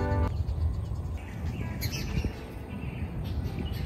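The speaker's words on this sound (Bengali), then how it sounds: "ঝাউবনে সারাদিন পাখিদের কনসার্ট।" Birds chirp faintly in a casuarina grove on a remote Odisha sea beach, with a short clear call at the start over a soft, steady background wash.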